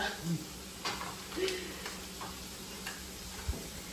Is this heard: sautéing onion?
yes